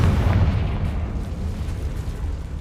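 A Confringo blast spell cast in the video game Hogwarts Legacy, a loud, sustained booming rumble that stays heavy and rolling throughout without breaking.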